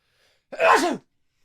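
A single sharp sneeze, close and fairly loud, in an otherwise quiet moment.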